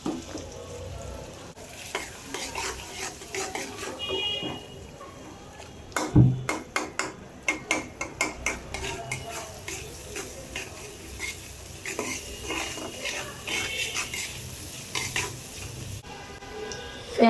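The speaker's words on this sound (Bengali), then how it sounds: "তেল দিয়ে দিছি পেঁয়াজ কাঁচামরিচ হলদের গুঁড়ো মশলার গুঁড়ো দিয়ে দিছি" Onion, green chili, turmeric and spice powder fry in oil for chickpea bhaji, a steady close sizzle broken by rapid, rhythmic clinks and scrapes of a metal spoon against the pan.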